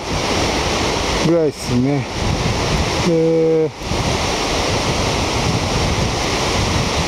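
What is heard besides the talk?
ocean waves at Sendai Newport beach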